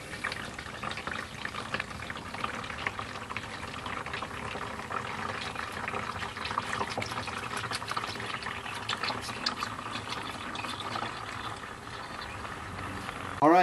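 Engine oil drains out of a V8 engine's open drain plug as a steady, continuous close-up trickle and splatter of liquid, running evenly throughout without pauses.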